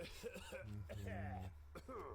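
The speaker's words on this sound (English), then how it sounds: "Sorry for the cough." A short burst of coughing and throat clearing, close and fairly loud, with a voiced, throaty quality.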